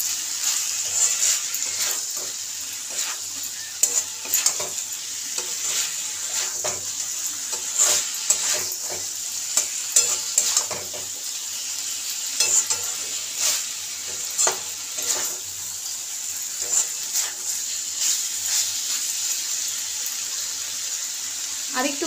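Chicken with curry leaves fries in a pan, a steady hiss of oil under repeated scraping and knocking strokes of a spatula as it is stirred, close and continuous for over twenty seconds.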